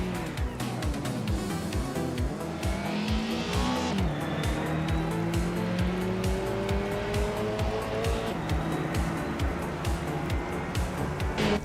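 Race cars speeding around a video game track in a chaotic AI-driven race: loud, overlapping engine whines rising and falling with gear changes, mixed with tire squeal and skids, constant and dense throughout.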